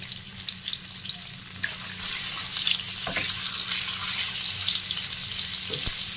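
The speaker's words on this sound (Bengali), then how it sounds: "পনিরটা এপিট ওপিট করে ভেজে পনিরটাকে তুলে নেব" Paneer sizzles as it fries in a pan, the hiss quieter at first and then swelling louder and steadier midway, with a few scraping knocks near the end and no voices.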